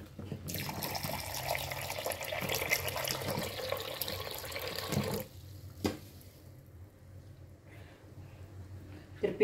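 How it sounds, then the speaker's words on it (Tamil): Tamarind water is poured into a pot of peanut kuzhambu in a home kitchen, a steady splashing gush for about five seconds, then a few quieter drips and clinks. "இப்போ நம்ம வந்து இது புளி ஜலத்தை இதோடு ஆட் பண்ணிக்கலாம்."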